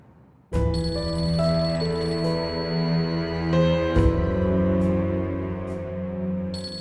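Mobile phone ringing with a musical ringtone indoors, a sustained tonal melody that starts suddenly and continues loud and close with no speech over it.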